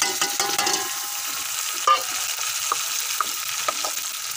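Browned onions and tomatoes sizzle steadily in a pan for a bhindi keema dish, with a few sharp utensil clinks and stirring scrapes over a constant, close frying hiss.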